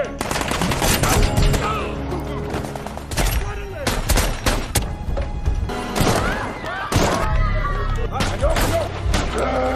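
Gunfire in a film shootout between fighters and guards at a prison, dense bursts of loud shots and rapid fire crackling continuously, with scattered thumps and impacts throughout and no clear speech.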